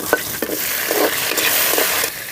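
Dried fish fries with onion in a village kitchen pan, a steady loud sizzle broken by several scraping stirs of a spoon, no voices.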